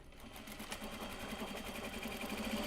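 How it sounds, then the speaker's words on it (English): A sewing machine stitches a drawstring bag made of Japanese fabric, giving a steady, fast mechanical whir with a rapid regular needle rhythm. It stays close and fairly quiet and runs alone throughout. "We're going to sew the exterior, then we're going to sew the interior"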